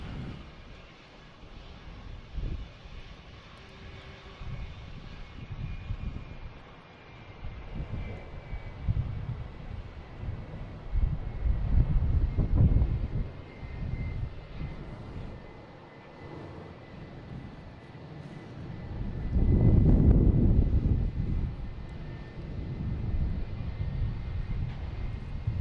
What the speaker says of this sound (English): Have American Airlines taking off here, heading to Orlando. 737-800, flight 724.